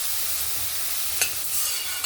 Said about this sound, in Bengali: এবার হালকা করে একটু ভেজে নেব।